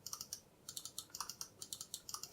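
Quick, crisp, semi-firm clicks from the main buttons of a Marvo Scorpion G980 computer mouse tapping out in uneven bursts, close up and fairly quiet, with no voices.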